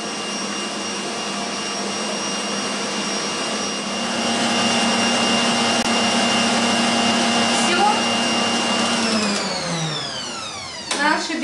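An electric mixer runs at high speed, beating eggs with sugar for a cake. It gives a loud, steady whirring whine that holds for several seconds, then spins down near the end with a brief voice over it.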